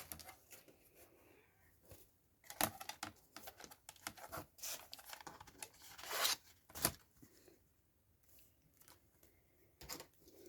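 Scissors snip through a section of patterned paper for a winter journal collage, giving a series of crisp, close cuts and rustles spread irregularly through a quiet room.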